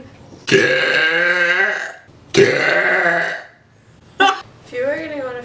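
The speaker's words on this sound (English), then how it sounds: "if you had a burp like that" A woman lets out a sequence of loud, drawn-out belches, two long ones followed by a short one and a final gurgling burp, each standing out clearly with gaps between.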